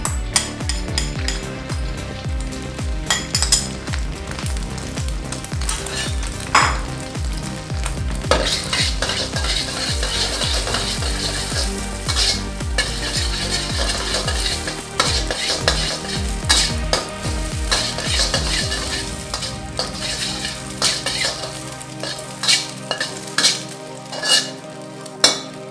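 Egg cooks in hot oil in a wok with a steady sizzle while a utensil repeatedly scrapes and stirs, producing rhythmic metallic clinks and scrapes throughout, close and fairly loud.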